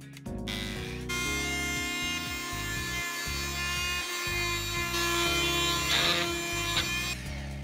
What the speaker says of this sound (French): On poursuit avec un petit test de la fonction ponçage, donc avec le plateau et l'abrasif fourni